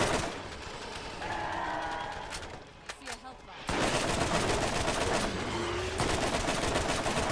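Rapid automatic gunfire from the Borderlands video game rattles in dense bursts, pausing briefly before resuming loud and continuous, with a voice talking over it.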